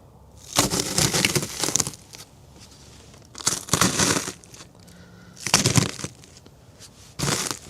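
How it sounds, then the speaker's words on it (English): Carbonized pumpkins and gourds are smashed in four separate bursts of brittle crunching and crumbling, each lasting about a second, close and loud with quiet gaps between. "Let's just smash these other three."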